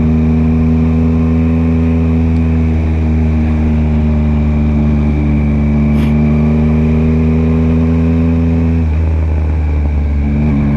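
A motorcycle engine running on old fuel idles loudly and steadily up close, then gives a short rev near the end, its rough tone holding throughout without any voices.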